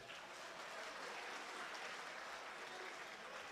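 Applause from the audience at a mushaira poetry gathering, a dense, even wash of many hands clapping that holds steady throughout and sounds somewhat distant.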